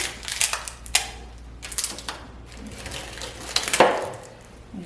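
Tape being peeled off canisters, a few crackly ripping and tearing bursts at close range, spaced irregularly with quiet gaps between them.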